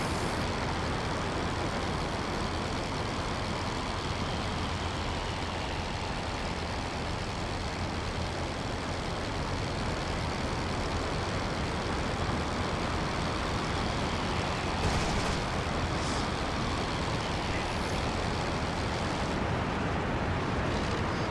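A WWI-era Fokker E3 monoplane's rotary engine at applied throttle in a flight simulation game, a loud, steady, dense drone that runs unbroken throughout.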